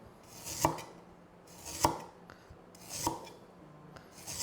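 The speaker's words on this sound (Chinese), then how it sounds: "现在我们来切一切这样的话连皮一起切" A kitchen knife slices through unpeeled ginger on a cutting board, four well-spaced, firm chops with a short scrape on each, close and clear with nothing else audible.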